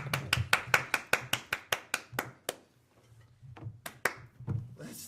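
A small studio group claps at the end of a New Year's predictions show, a fast run of distinct, close claps that thins into a few scattered ones and then a brief final burst.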